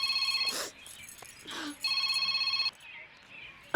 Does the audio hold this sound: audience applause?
no